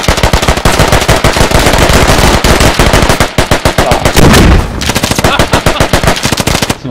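Dense, loud automatic gunfire in the Squad military shooter, rapid bursts of shots rattling almost continuously with a heavier thump midway, close and overwhelming.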